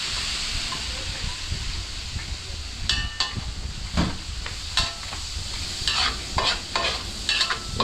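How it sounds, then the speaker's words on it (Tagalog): Chicken pieces fry in hot oil for a fried-chicken order, giving a steady, dense sizzle with intermittent clinks and scrapes of stirring layered on top. "Tapos nag-start na rin po pala mag-prito ng ayan, Chicken manok."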